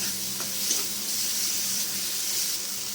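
Kashmiri red chili powder and ground spices sizzle in oil in a pan for a potato, cauliflower and prawn curry, a steady close hiss with faint stirring clinks and no talk.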